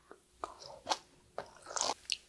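Crunchy chewing of lightly steamed coastal hog fennel (bangpung greens) salad dressed with honey yuja syrup, heard as several close, distinct crisp bites and munches in short bursts with brief pauses, no talking.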